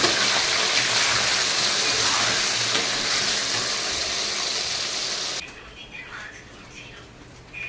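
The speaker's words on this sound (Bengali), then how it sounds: "আমার তেলটা গরম হয়ে গেছে, এখন আমি আলুটাকে ভেজে নেব" Potatoes fry in hot oil with a loud, crackling sizzle for several seconds, then the hiss abruptly drops to a quieter, sputtering bubble with faint background noise.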